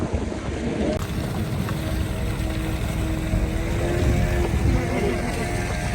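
A steady engine drone with broadband wind and water noise runs throughout, continuous and fairly loud, from a motorboat under way on a journey to Cameroon.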